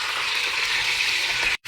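Chicken pieces fry gently in oil for a roast, giving a steady, dense sizzle that holds even throughout before cutting off abruptly near the end.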